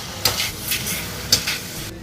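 Pork is stir-fried with ginger slices and scallion segments in a wok, sizzling steadily while a spatula scrapes and clinks against the metal in a few sharp strokes, with no talk.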